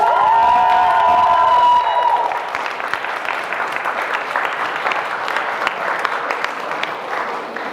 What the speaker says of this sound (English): Huge round of applause for Pauline O'Brien, everybody!